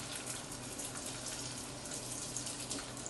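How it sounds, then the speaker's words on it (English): Sea bream fillet laid skin-down in a hot pan for pan-frying, giving a continuous, even hiss of oil close by that stays steady throughout. "And we put the fish straight away to the pan."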